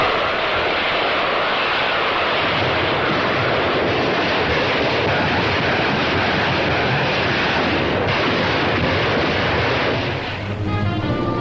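Wartime footage of 4.5-inch rocket launchers firing salvos of rockets during the Inchon landing in Korea. A continuous, loud roaring rush holds steady throughout and eases slightly near the end.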